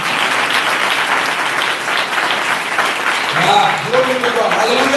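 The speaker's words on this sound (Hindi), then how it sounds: "तालियां मारिए यीशु मसीह को" A church congregation claps loudly and continuously in praise of Jesus Christ during a worship service, and a voice starts speaking over the final seconds of clapping.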